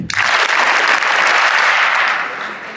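A roomful of students claps loudly and continuously, the dense applause holding steady for nearly three seconds before easing slightly at the end.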